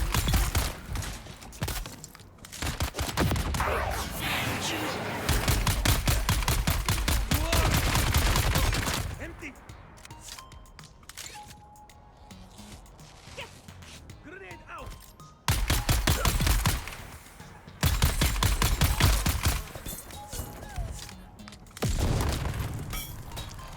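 Rapid gunfire in a shooter video game comes in long loud bursts, with dense automatic fire broken by quieter stretches and resuming in repeated volleys close to the listener.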